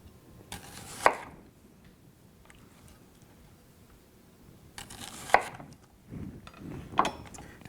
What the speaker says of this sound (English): Then we'll cut some very small onion rings to sprinkle over the top